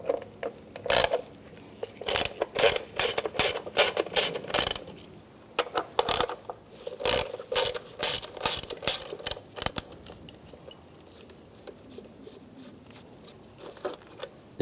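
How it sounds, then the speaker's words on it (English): A ratchet with a T30 socket backs out valve cover bolts on a 2007–2013 Mini Cooper, making bursts of rapid, close clicking that stop and start in runs, then give way to near silence. "Take these two bolts out."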